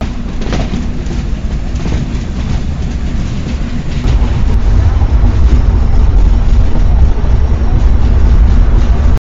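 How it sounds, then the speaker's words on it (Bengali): The Chitra Express crossing the Jamuna Bridge, heard from inside the train as a loud, continuous rumble and clatter that swells heavier partway through. "আমাদের ট্রেনটা এখন হচ্ছে যমুনা সেতুর উপরে আছে।"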